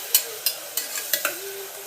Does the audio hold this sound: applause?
no